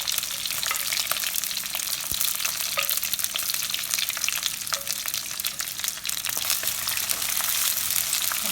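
Garlic and green chillies fry in hot oil for a fish curry, giving a steady, close, bright sizzle with occasional crackles and pops and a few stirring clicks, without any talking.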